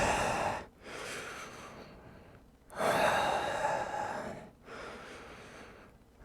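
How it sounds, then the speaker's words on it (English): Deep breathing during a yoga session: slow, loud, close breaths, each long airy inhale or exhale separated by short pauses, roughly four breaths alone without talk. "And breathe in deeply."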